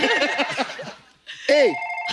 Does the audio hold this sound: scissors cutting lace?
no